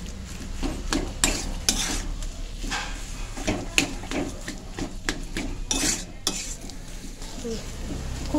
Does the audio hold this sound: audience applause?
no